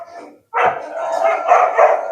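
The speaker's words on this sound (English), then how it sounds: "There are some dogs that might bark." Dogs bark and howl in a loud, echoing chorus in an animal shelter kennel, running almost continuously after a brief pause at the start.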